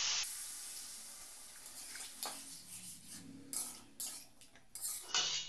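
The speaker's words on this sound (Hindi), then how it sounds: "इसमें डालेंगे अब हम पानी।" Water poured into a pan of browned boiled potatoes for a home-style aloo-tamatar curry, a steady splashing pour that surges in bursts over a faint sizzle, close and alone without talk.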